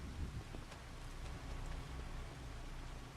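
Steady rain falls in Farming Simulator 25 on the Eldred, Minnesota map, a constant soft hiss of drops with a low rumble underneath, even and unbroken throughout.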